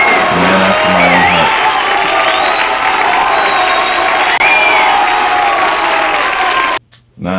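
A crowd roars and cheers continuously at a live performance, loud and sustained whooping and shouting that cuts off abruptly near the end.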